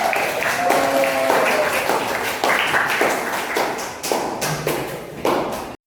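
Students in a classroom religion lesson clap briefly in scattered bursts, with taps and thumps mixed in, fading and restarting several times before stopping abruptly.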